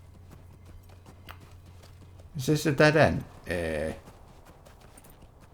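Horse hooves in the online game LOTRO, a brief burst of clip-clop steps followed by a second short run, close and fairly loud, with a voice talking over the quieter background.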